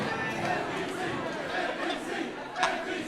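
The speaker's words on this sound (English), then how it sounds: "NPC chants in the crowd" Crowd of NPC spectators chanting at a live Summerfest event, a dense, steady murmur of many voices with a brief louder shout near the end.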